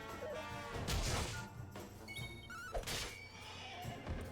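A horse neighs within the busy game sound of Dragon Quest 11, a short whinny heard among crashes, thuds and music, fairly loud and mixed in with other effects.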